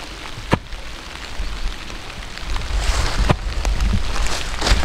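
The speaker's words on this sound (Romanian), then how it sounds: "Deja încetinește ploaia." Light rain easing off outdoors during fence-post work in early spring, a steady soft wash of drops with a few sharp taps close by, gradually getting a little louder and denser toward the end.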